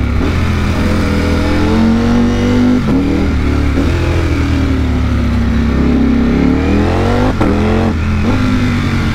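A Ducati V4S motorcycle engine revs loudly while riding, a sustained close roar that rises and falls through several throttle swells.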